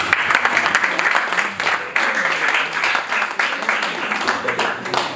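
Church congregation applauding and cheering for the Lord at a pastor's surprise birthday celebration, dense sustained clapping with voices mixed in throughout.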